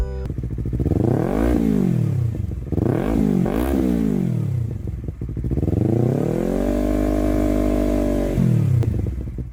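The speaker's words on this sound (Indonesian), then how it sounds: "Sayangnya, suara motor 2 silinder kayak gini." A two-cylinder motorcycle engine revs repeatedly, pitch climbing and dropping in sharp bursts, then holds a long steady high rev before falling back; loud and close.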